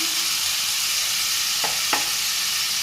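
Tomato paste goes into a hot pan while cooking a chital fish curry, giving a steady broadband sizzle with a couple of short stirring scrapes partway through.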